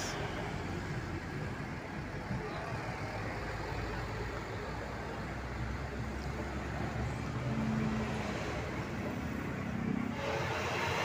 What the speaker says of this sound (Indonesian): Wah, ini juga ada dump truk besar melintas.